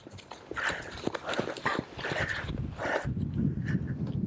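A horse's hooves thud rhythmically on the ground as it is lunged on a 20-metre circle, with clear, fairly close clip-clop steps and a brief soft exclamation from a person.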